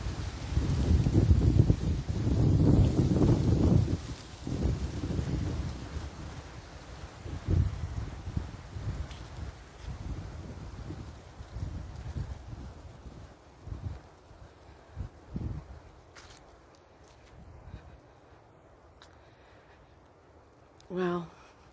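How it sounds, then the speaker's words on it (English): Strong gusts roar through a spring forest, loudest at the start and then easing into softer rustling surges, with a few faint footsteps and a voice speaking briefly nearby. "Really, really windy."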